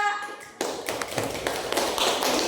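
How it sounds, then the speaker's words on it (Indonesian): Students in a religious education class for seventh grade clap for a classmate after a correct answer; a burst of scattered, close hand claps starts abruptly and continues briskly, with a voice heard briefly before it begins. "Pinter, tepuk tangan buat Clara."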